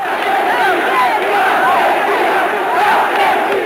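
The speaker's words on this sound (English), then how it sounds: "When news of the invasion reached Buenos Aires, the crowds went wild." Crowds in Buenos Aires roar and cheer over the news of the Malvinas invasion: a dense, steady wall of massed voices with rising shouts, loud and continuous throughout.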